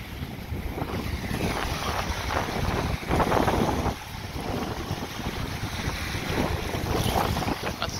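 Southerly wind gusts steadily across a beach in Biloxi at sunset, a loud, continuous roar buffeting the microphone with a surf-like wash beneath and a stronger rush midway.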